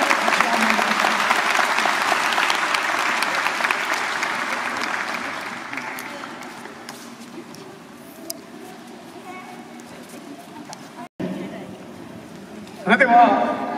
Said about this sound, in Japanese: 竹野先生の素晴らしい演舞をどうぞ拍手をお願いいたします。